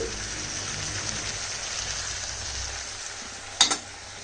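Cauliflower stalks fry in a covered pan over a low gas flame, giving a faint, even sizzle and hiss throughout. A brief clatter comes near the end.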